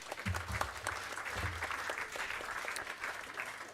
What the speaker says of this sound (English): Let's give her a hand of applause as she comes up